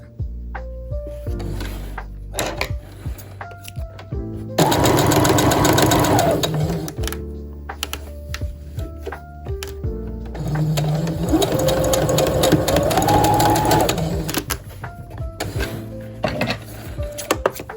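Sewing machine stitching darts on a bodice for vintage Barbie doll clothes, running in two steady bursts of rapid mechanical chatter with quieter pauses and small clicks between, close up.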